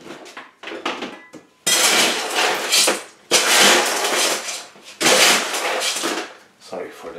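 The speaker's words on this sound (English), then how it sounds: "So I now will put some pebbles around it as a last top layer" Pebbles poured and scattered around a repotted Zygopetalum orchid as a dry top layer of inorganic media, several bursts of loud clattering and rattling stones in a pot, separated by short pauses with a voice briefly audible.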